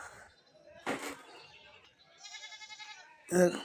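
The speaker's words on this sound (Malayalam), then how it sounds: "സൈസ് മുട്ടനാടുകൾ തന്നെയാണ് ഈ ഭാഗത്ത് നിൽക്കുന്നത്" Male goats at a Kerala goat market bleat a few times, one wavering call and two short ones, close by amid market noise and someone talking.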